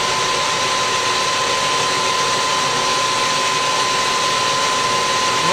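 Steady broadband motor whine with a constant hum from a lathe spinning up to turn a screwdriver blank, running continuously and fairly loud with no voices over it.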